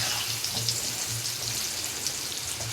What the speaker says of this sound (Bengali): আমি আলুগুলো দিয়ে দিলাম। আলুটা ভেজে তুলে নেবো